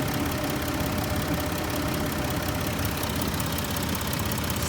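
Dodge Nitro engine idling steadily with a low, even rumble and a faint ticking knock, close and constant throughout with no talk.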